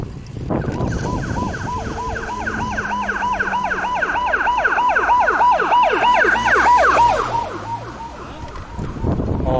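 A loud ambulance siren wails in rapid rising and falling sweeps, passing close by on a riverside bike path over wind and road rumble.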